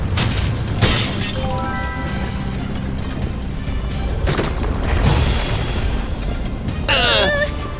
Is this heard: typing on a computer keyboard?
no